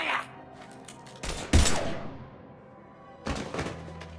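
Gunfire from a Mass Effect 3 game battle: a few sharp, loud thumping bursts, one near 1.3 s, a stronger blast at 1.6 s that rings out, and another burst near 3.4 s, over low background ambience.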